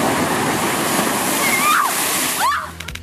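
A gigantic ocean wave crashes beside people taking photos, a loud roaring wash of water that suddenly drops away near the end, with voices faintly present.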